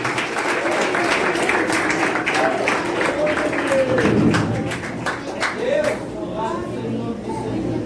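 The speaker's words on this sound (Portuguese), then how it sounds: "Pode aplaudir." A church congregation applauding during a Pentecostal service, broad sustained clapping that fills the room for several seconds while voices carry over it.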